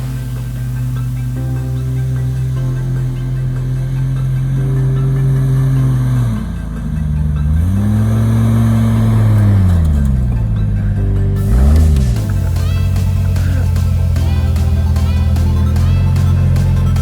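An off-road vehicle in four-wheel drive on forest trails in Ocala National Forest, its engine droning loudly and nearby with rising and falling revs, and brief speech in the background.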